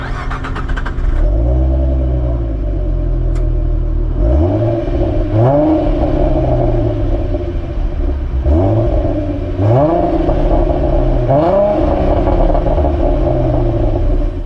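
A 2013 Ford Mustang with the 3.7 V6 cranks and fires up, then settles into a steady, fairly quiet exhaust burble with several rising revs that fall back to idle.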